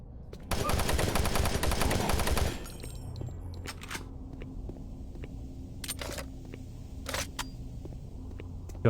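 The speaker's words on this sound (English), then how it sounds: "This gun eats up ammo like crazy." Rapid automatic gunfire from a weapon in the 2004 PC game Doom 3, a dense loud burst of about two seconds. Sparse clanks and faint game ambience follow, with no talk.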